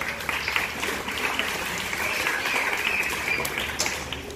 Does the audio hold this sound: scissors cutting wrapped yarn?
no